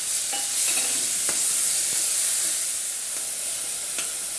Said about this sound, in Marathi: त्यानंतर त्यामध्ये कापलेला कांदा आपल्याला परतून घ्यायचा आहे